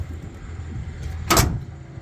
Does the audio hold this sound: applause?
no